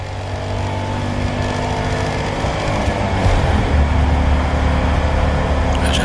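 A Citroën AMI 8 with an air-cooled two-cylinder engine runs steadily with a low, buzzing drone that grows louder and rougher about halfway through, as if revving up, with no talk.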